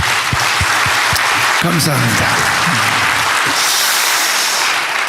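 Applause from an audience at a church leaders' meeting, steady and loud throughout, with someone speaking over it and a few distinct claps standing out early on.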